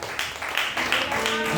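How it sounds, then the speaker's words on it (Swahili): A church congregation claps together in worship, a steady dense patter of many hands that stays loud and even throughout. "Pigia Yesu Kristo makofi"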